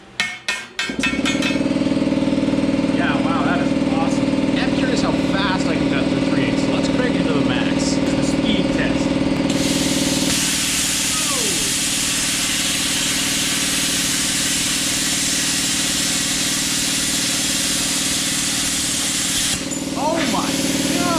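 JEGS Cut 60 plasma cutter working through a thick chunk of 3/8 inch steel plate, a steady loud hum joined by a harsh broadband hiss while the cut runs for about ten seconds; a voice talks over it.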